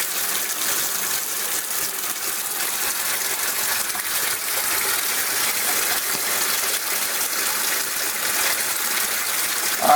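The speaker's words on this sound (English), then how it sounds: "Alright, so there's the water running." Tap water runs steadily into a cap in a laundry room, a constant loud hissing gush that holds without break throughout.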